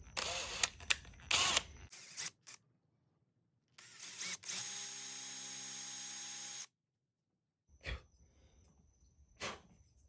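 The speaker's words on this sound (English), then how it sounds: "Gonna go with a 1/2 inch bit. Yeah, I know, I'm drilling into my hand" A power drill with a 1/2 inch bit whirs in a steady sustained burst for a couple of seconds while boring a hole in a handmade fishing lure, surrounded by sharp clicks, clunks and handling knocks, with silent gaps between.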